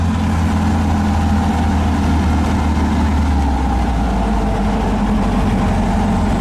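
A 1915cc VW Manx buggy engine running rough, a steady loud, close rumble with no break and no voices over it.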